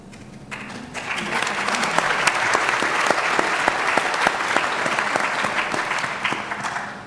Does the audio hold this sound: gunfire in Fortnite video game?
no